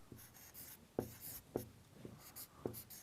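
Chalk or marker strokes on a board during an economics lecture, a handful of short scratchy taps and squeaks spaced unevenly, fairly close, with no talk over them.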